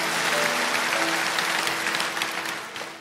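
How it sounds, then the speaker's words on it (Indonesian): A church congregation claps together in a short, steady burst of applause that fades slightly toward the end, with no speech over it. "Kasih tepuk tangan untuk Tuhan Yesus."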